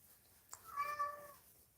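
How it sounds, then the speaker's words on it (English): A house cat gives a single drawn-out meow, moderately close and fairly quiet, with a rising then falling tone over a still background. "What are you meowing at me about?"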